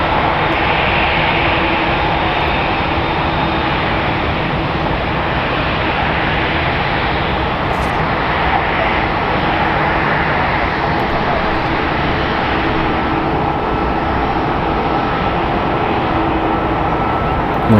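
A jet airliner taxis across the field at San Francisco International Airport, its steady engine roar filling the air at close range, broad and continuous with no break, while faint chatter sits low underneath.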